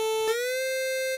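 A saw wave synth lead in Vital holds a bright, buzzy sustained note with legato glide, bending smoothly up from a lower pitch early on, loud and alone.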